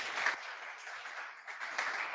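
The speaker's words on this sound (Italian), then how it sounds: "questo applauso del pubblico" An audience claps at an Italian book presentation, a soft, even patter of many hands that stays at a steady, moderate level throughout.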